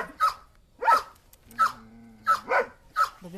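A young, large puppy at a shelter barks in a series of short, sharp yips and barks, about six in quick succession, fairly close with a brief whine between.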